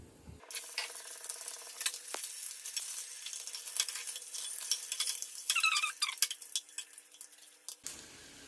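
Eggs frying in coconut oil in a pan for an egg masala fry, a steady close sizzle with crackling pops and spatters throughout, fading out abruptly near the end.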